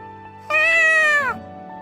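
A single clear cat meow from The Fruit of Grisaia, close and about a second long, rising then falling slightly in pitch, with quiet background sound around it.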